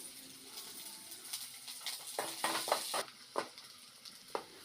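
Onion and garlic sauté quietly in oil for a pirandai chutney, with a soft sizzle broken by a few stirring scrapes and taps against the pan.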